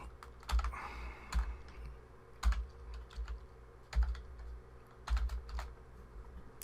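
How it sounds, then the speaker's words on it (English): Manual typing of a password on a computer keyboard, short bursts of clacking keystrokes separated by brief pauses, close and clear with no talking. "I've got to type it manually because of how I'm connected to"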